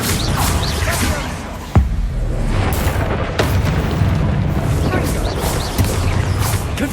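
Fire and blasting spell explosions in Hogwarts Legacy combat, several booming bursts with one sharp crack amid continuous loud rumbling battle noise.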